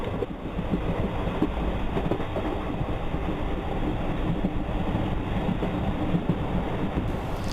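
Steady, loud rumble of a train rolling along the rails in southern India near Bangalore, with a constant clatter and roar throughout and no voices.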